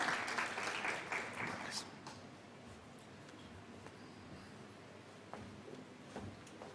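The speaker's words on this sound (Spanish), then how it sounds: "Entonces, un aplauso a ambas dos presentaciones" A short burst of clapping from a small audience after presentations fades out after about two seconds, leaving quiet room noise with a few faint knocks.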